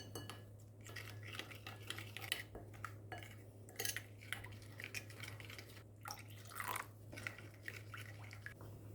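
A utensil scrapes and clinks in a bowl of liquid sauce mixed from soy sauce, oyster sauce, cornstarch, garlic, coriander and pepper, with soft wet swirling and scattered taps over a steady low hum.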